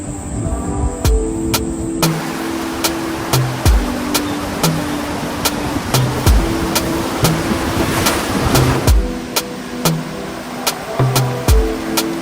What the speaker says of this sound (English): Big creek crossing, and we're not going past that in the van.